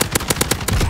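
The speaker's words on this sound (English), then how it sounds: "I got shot from somewhere else." Rapid automatic gunfire in a shooter video game rattles out in a fast burst of sharp, loud shots, about nine evenly spaced cracks in a second, close and alone without any voices.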